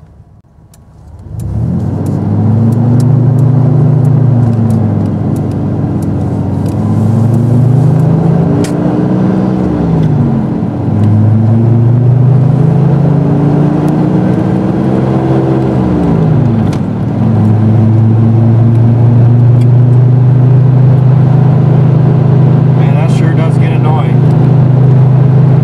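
A 1996 Dodge Dakota with a 3.9L V6 and five-speed drives along, the engine loud and close as it revs up and down through several gear changes before holding a steady drone.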